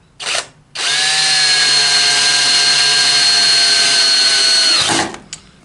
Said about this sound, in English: what we're doing now is just putting the actual screws in themselves